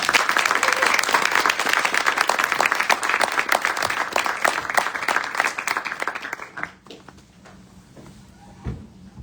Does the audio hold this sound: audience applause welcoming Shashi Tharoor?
yes